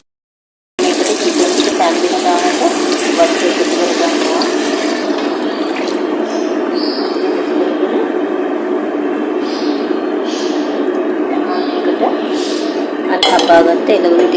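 Chicken going into a pan for a rice dish: a loud, steady hiss of cooking continues for the whole stretch, with occasional clinks of pots and utensils, rising slightly near the end.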